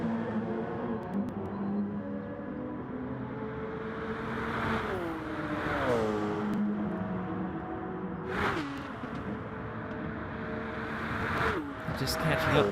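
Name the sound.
racing car tyres squealing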